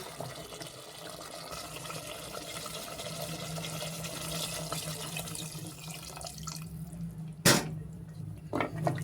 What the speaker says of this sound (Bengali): আমি জল দিয়ে দিলাম।